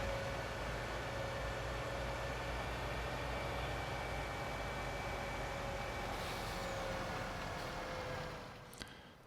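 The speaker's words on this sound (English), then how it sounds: "It's a rather nice truck to drive around." A truck in Farming Simulator 19 drives along with a steady droning engine hum that holds for most of the stretch and then eases off near the end, with no talking over it.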